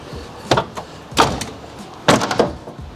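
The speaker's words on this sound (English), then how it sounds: "close your doors and make sure that none of these got out of adjustment and everything closes nice and easy" Car doors shut one after another after a door safety system install, with three separate closing thumps and latch clicks at close range, each solid but not harsh, and no talking.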